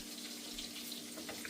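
Onions sizzle and start to burn in a hot pan while a cube steak dish is being cooked, a steady, soft frying hiss with no voices.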